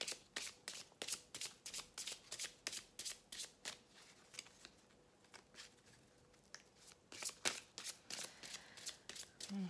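Lenormand oracle cards shuffled by hand in repeated quick riffling bursts, each a sharp papery flutter, close and fairly quiet, with a brief pause midway before the shuffling resumes.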